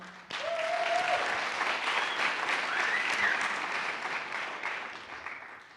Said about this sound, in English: please give them all a round of applause as well